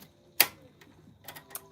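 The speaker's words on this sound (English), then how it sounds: "What a great typewriter." A 1949 fully manual typewriter struck close by: one sharp loud key strike, then a pause and a quicker cluster of lighter clacks and a final tap.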